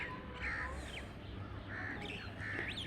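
Several crows caw outdoors in a flock of birds, harsh calls repeated in short bursts at moderate distance over a faint, steady background.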